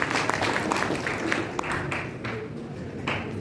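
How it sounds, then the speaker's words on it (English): Audience applause at a school house quiz for Independence Day, a steady patter of clapping from a crowd that carries on through the whole stretch at moderate loudness, with some murmuring underneath. "A big round of applause for all of them."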